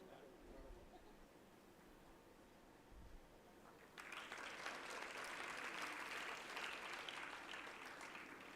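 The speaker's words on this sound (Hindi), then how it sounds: "इनके लिए ज़ोरदार तालियां" An audience at a Hindustani vocal concert applauds to welcome a guest. Faint talk and rustling come first, then a burst of sustained, broad clapping fills the rest of the clip.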